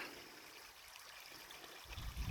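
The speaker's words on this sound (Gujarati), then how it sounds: "પાણી આવી રહ્યું છે" Water trickles along an irrigation channel on a chemical-free Gir cow-based farm, a faint, steady, close stream that runs without a break. A low rumble rises near the end, and no one speaks.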